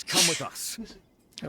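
A Genshin Impact character lets out a single sharp, loud sneeze, followed by brief spoken dialogue.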